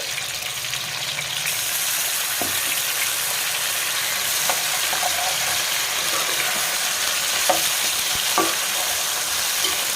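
Brinjal curry with ginger garlic paste stirred in a pan, a steady broad sizzle of frying with scattered scraping clicks from the spoon against the pan, close and continuous with no talking.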